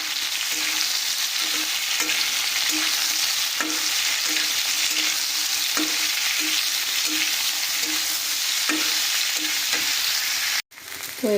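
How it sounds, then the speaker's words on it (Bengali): Potato, brinjal and beans fry in a wok with a steady, close sizzle. Regular spatula stirs and scrapes tap through it, and a brief pause comes near the end. "সিম আলু বেগুন খুব ভালো করে আমরা ভেজে নেব প্রথমেই"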